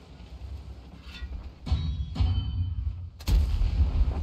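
Tank cannon shots in a tank video game, several heavy booming blasts with rumbling low tails over a continuous engine drone, the last one loudest and sharpest.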